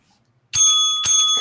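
A newly fitted bicycle bell is rung twice in quick succession, bright metallic rings, loud and very close, with no talking.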